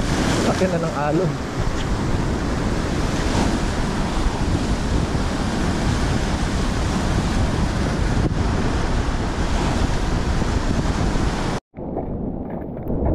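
Heavy surf and choppy sea wash steadily around a small fishing boat in bad weather, with wind buffeting the microphone throughout; the roar stays loud and continuous until it cuts out abruptly near the end.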